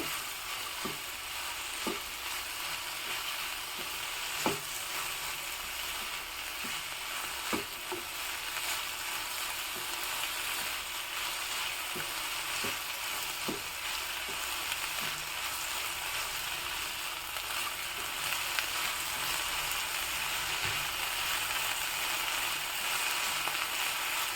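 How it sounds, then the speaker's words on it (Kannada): Okra stir-fried in a pan for a Mangalore-style dish, giving a steady soft sizzle with occasional scraping clicks of a ladle stirring through it, continuous and close. "ಈಗ ಬೆಂಡೆಕಾಯಿ ನೋಳೆ ಹೋಗೋವರೆಗೂ ಚೆನ್ನಾಗಿ ಇಟ್ಕೋಬೇಕು"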